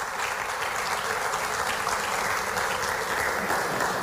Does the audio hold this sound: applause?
yes